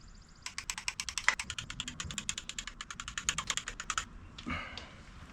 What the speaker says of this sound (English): And I'm going to torque the timing cover in this sequence here.